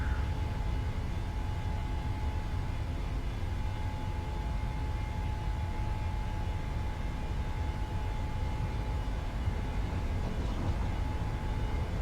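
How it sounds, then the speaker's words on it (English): Steady, loud Boeing 737 engine roar at takeoff thrust during the takeoff roll in a PMDG flight simulator, a continuous broadband rumble with a faint steady whine throughout and no talk. "Takeoff thrust set, indications normal."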